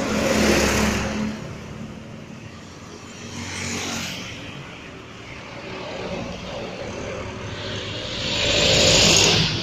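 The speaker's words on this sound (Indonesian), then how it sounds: "Ada bis Prima Jasa Tasik Bekasi ekonomi." A Prima Jasa economy bus on the Tasikmalaya–Bekasi route passes along a road in Ciawi, Tasikmalaya, its engine roar swelling and fading as other road traffic rises and falls around it.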